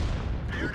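A single heavy artillery round from the M12 self-propelled gun in World of Tanks, a dense low booming blast filling the short moment at steady loudness.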